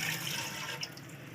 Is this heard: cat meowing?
no